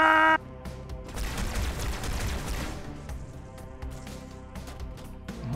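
Rapid bursts of gunfire in the video game Halo 2, a dense, loud volley that thins into scattered shots, with no voices over it.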